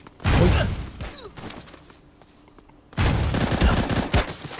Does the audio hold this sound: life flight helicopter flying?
no